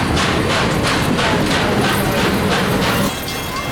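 Paul Revere railroad coach, owned by a historical railroad society, rolling past on an adjacent track at a train expo, giving a loud, steady close-by rumble with rhythmic wheel clatter that eases slightly near the end.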